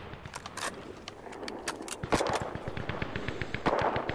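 Rapid automatic gunfire rattles steadily in a PS4 shooter match, with fast regular bursts of shots, some nearer and louder, running throughout without talk.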